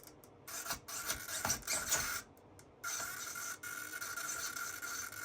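A Savox RC servo being installed in a Tamiya Shorty Dump whirs and grinds in short bursts, a raspy mechanical buzz starting and stopping several times, close and fairly quiet.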